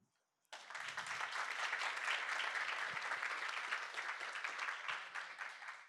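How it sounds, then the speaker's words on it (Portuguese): After a brief hush, a large crowd at a ceremony in a Brasília palace bursts into loud, sustained applause that rolls on steadily for several seconds. "eu gostaria de pedir uma salva de palmas para a nossa democracia"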